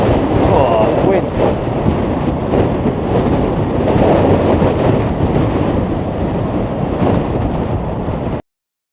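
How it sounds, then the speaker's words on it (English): Strong wind of storm Bert buffeting outdoors, a loud continuous roar with gusting surges that fill the whole stretch before cutting off abruptly at the end. "Oh, this wind."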